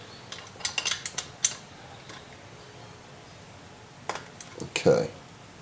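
Metal tools clink a few times while a nut is loosened during a valve adjustment on a Yamaha Grizzly 450 ATV; light, close clatters come in two short bursts with quiet gaps between.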